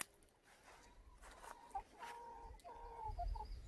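A tame Black Rock hen clucks softly in a smallholding coop, short murmuring calls rising and falling over a low background rumble, faint and close.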